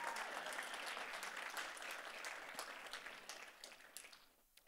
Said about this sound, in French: Oh, tu peux applaudir Jésus.